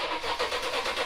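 Toyota 3UR-FE V8 swapped into a Tacoma, cranking over on the starter with a steady rapid pulsing whir, close and loud, without firing.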